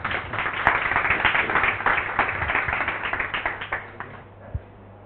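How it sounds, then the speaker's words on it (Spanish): A room of meetup attendees at a Vue.js developer gathering claps for two speakers, a dense burst of hand claps that starts full and tapers off over about four seconds, ending in a few scattered claps. "un fuerte aplauso a David y Andrés"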